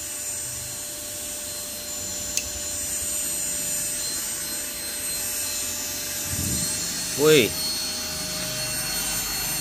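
A vacuum cleaner runs on power from a SUOER FPC 3000B inverter, giving a steady, even motor drone with a constant tonal whine throughout, and a brief voice calls out near the end.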